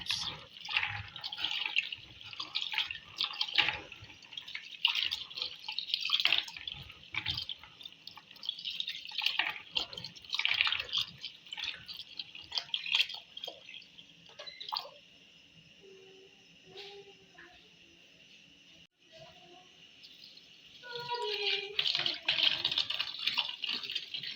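Beans for a porridge of beans and rice being washed by hand in water, with splashing, sloshing and dripping that come in bursts and pause before trickling again.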